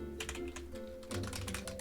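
Rapid keystrokes clatter on a computer keyboard, a close, steady burst of irregular clicks that continues without pause and picks up density toward the end.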